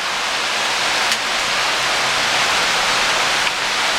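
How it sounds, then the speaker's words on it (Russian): Hail and rain pelt down during a thunderstorm in Saint Petersburg, a loud, dense, unbroken roar of impacts close by, with a couple of sharper hits standing out. "Это долбаный град нахрен!"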